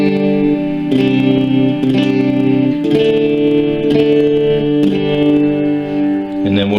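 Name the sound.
electric guitar through Boss ME-50 overdrive distortion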